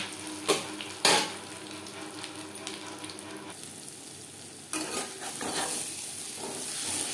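Fish roe frying in oil, a soft continuous sizzle broken by two sharp clatters near the start and a brief louder burst of spatter later on.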